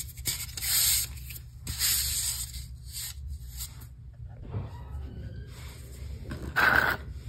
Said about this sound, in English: as you can see, it's all sanded